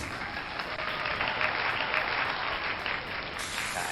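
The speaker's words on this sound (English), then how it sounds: "And the crowd goes wild." Crowd applause as a sound effect: a dense, steady wash of many hands clapping at fairly high volume for several seconds, heard with no talk over it.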